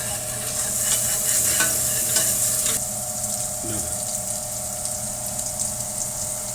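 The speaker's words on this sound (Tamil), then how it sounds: "இஞ்சி பூண்டு நல்லா வதங்கட்டும்." Ginger and garlic sauté in a pan for a pepper chicken dish, giving a loud, close sizzle with stirring scrapes that softens partway through, while a steady low hum runs underneath.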